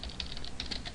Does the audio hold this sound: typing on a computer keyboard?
yes